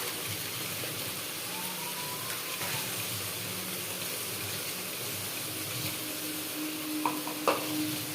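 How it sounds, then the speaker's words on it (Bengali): Chili paste for chicken curry fries in a pan with a soft, steady hiss, then a few light clinks of stirring near the end, fairly quiet and close, with no voices. "লঙ্কা বাটা দেওয়ার পর আমি ভালোভাবে কষিয়ে নেব"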